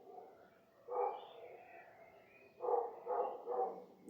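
A big dog barking alone across a quiet village, faint and distant: one bark, a pause, then three more in a loose rhythm over low background hush.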